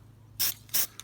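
Rust-Oleum rust protection spray paint being applied to a Toyota Land Cruiser 100 series: two close, loud hissing bursts from the can, then a short third puff, with no talk.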